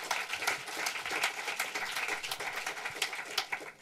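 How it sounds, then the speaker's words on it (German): Dense audience applause after a performer is welcomed onto the stage at a German film talk event, steady, fairly loud and sustained throughout with no speech over it. "schon mal einen Applaus für dich"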